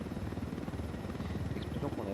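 A helicopter nearby in the Ghost Recon Wildlands video game, a steady low rotor thrum and chop droning continuously under talking.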